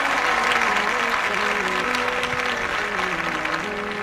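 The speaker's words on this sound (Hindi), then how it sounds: "सभी जन जोरदार तालियों के साथ" A church congregation at a morning prayer service applauds loudly and continuously, a dense wash of clapping with a faint voice underneath.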